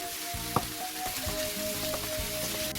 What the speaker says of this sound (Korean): 양파가 살짝 갈색이 찐 때까지 열심히 볶아볼게요